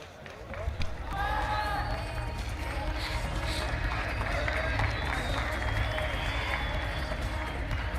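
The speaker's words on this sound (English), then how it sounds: "Nice to hear the applause, even though the local athlete did lose that battle." Crowd at a youth martial arts championship in a sports hall applauding and cheering, a broad steady roar of clapping and voices with whistling tones, sustained after a brief start.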